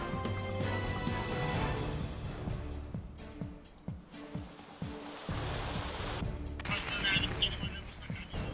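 River water rushing over a flooded bridge at Khadakmale village near Nashik during heavy rain, a broad surging roar that swells and dips, with scattered voices and bumps over the flow.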